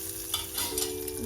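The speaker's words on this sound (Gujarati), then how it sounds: "હવે આપણે બધો મસાલો દાળમાં ઉમેરી દઈશું" A hot spice tempering with curry leaves and red chilli hits Gujarati dal for dal dhokli, giving a brief, quiet crackling sizzle with a few sharp pops.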